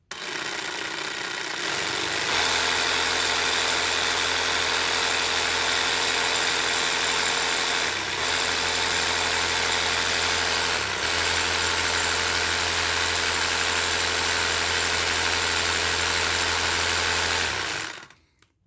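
An Einhell TE-AP 18 Li cordless reciprocating saw spins up and runs unloaded at a steady, even motor whine for about fifteen seconds, then winds down and stops, close to the microphone with no talking.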